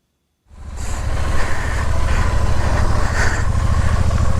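A Royal Enfield Shotgun 650 motorcycle starts up after a brief silence and settles into a loud, close, steady engine rumble that holds throughout.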